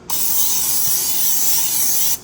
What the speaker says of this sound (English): Get some magic non-stick spray.